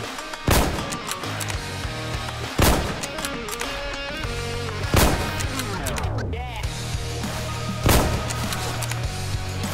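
Sniper rifle gunfire in a WW1 Roblox trench warfare battle: four loud, sharp shots spaced about two seconds apart ring over a continuous backdrop of distant battlefield rumble and crackling gunfire.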